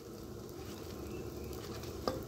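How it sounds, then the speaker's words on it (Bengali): Fuchka (panipuri) shells frying in hot oil over a gas flame at an outdoor picnic, a steady close sizzle with a brief sharper crackle near the end and no talking. "দেখো কীভাবে ফুচকাটা ভাজছি আমরা।"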